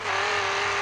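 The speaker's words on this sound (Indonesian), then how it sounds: "kita ambil mobil Lamborghini" A Lamborghini engine drones loud and steady in an animated race, a sustained even roar with no breaks, close and filling the whole moment.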